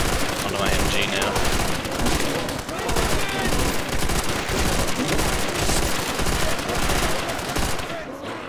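A machine gun in the Nazi Zombies game fires in long, loud, nearly continuous automatic bursts close up, easing slightly only at the very end. A player talks over the gunfire.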